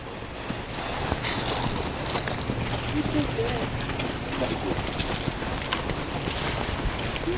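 A horse trots a tight circle under a rider in training, its hoofbeats coming as faint, rhythmic thuds over steady outdoor noise and wind.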